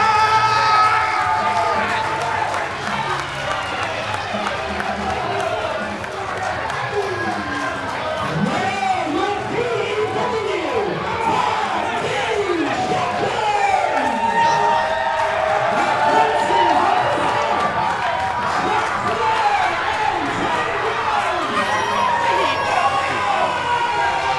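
Wrestling show crowd roaring and cheering steadily at close range, a continuous dense wash of voices with scattered whoops and shouts throughout.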